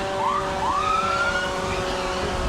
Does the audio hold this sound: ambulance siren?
yes